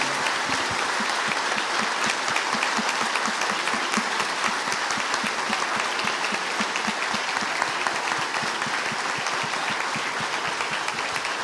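Foursquare Gospel church congregation applauds, a loud, dense, continuous roar of many hands clapping that holds steady for over ten seconds.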